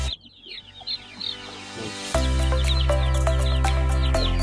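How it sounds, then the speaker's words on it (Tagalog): Hens clucking among many chicks in a backyard poultry pen, soft peeping and clucks at first, then a louder steady hum underneath with repeated clucks and chirps close by. "marami ng mga sisiw dyan, oh"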